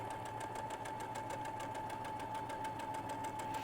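A sewing machine runs steadily while stitching fabric seams on a pentagon ball project, giving a fast, even mechanical rhythm with a constant hum, close and alone.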